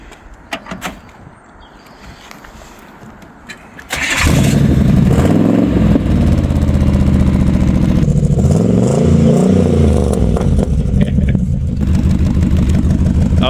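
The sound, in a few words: 1949 Chevy Styleline hot rod engine starting and running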